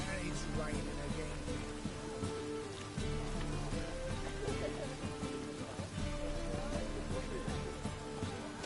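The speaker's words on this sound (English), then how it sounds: "It's raining again." Rain falls steadily in a PS4 game, a constant dense hiss of droplets with game music and character dialogue layered over it.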